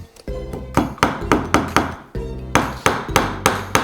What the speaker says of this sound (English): I'm gonna just keep going with the hammering